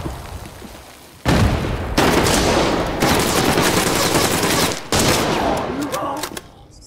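Loud, dense gunfire from an SJ16 .338 Lapua rifle and other weapons in the shooter Arena Breakout Infinite, several sustained bursts with heavy booming reports, separated by brief gaps.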